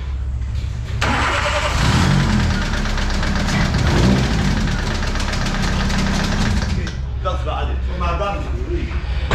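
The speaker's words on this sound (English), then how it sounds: "it turns out that the auxiliary belts come off and it's slapping against the timing case" Idling engine of a Nissan Micra K11 Superturbo with a loose auxiliary belt slapping against the timing case, a steady loud knocking rattle close by that runs for several seconds after the engine starts, then fades as someone speaks.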